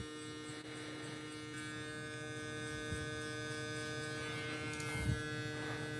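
Electric hair clippers buzz steadily at close range while cutting an open-taper fade, a constant mains-like hum with brief louder bursts as the blade bites into hair, and no talking.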